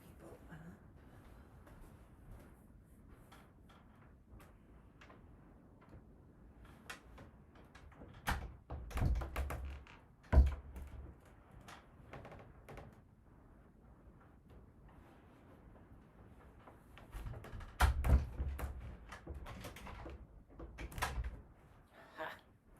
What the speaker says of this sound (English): let me just shut the door so I don't wake people